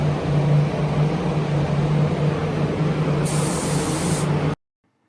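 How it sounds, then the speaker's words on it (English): A spray gun applies a waterborne control coat of paint to a panel, giving a continuous, even hiss over a low hum that stops abruptly near the end. "Finally, we're spraying our control coat on our panel."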